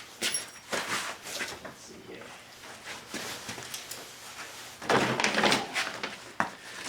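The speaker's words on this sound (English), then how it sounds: "So now we're going to put the door on." A door is fitted onto a 1999 GMC Sonoma pickup in a garage, giving irregular metallic clunks, knocks and rattles of handling, with louder thumps near the end and someone talking faintly in between.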